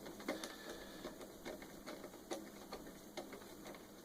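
A screw is driven into a PBD WA-2608 outdoor TV antenna, giving faint, evenly spaced clicks and ratcheting ticks over a quiet background.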